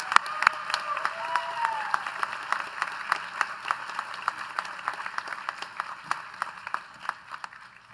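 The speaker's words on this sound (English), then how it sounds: "Let's give them a round of applause." Graduating-class audience at a 2024 school graduation ceremony applauds steadily, dense clapping from a large crowd at moderate distance, continuous throughout with a few light cheers and no one speaking over it.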